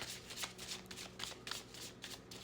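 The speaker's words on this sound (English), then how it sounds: "I'm shuffling different today" A deck of playing cards is shuffled in several quick riffle bursts, soft and close, with a brief pause between each ripple.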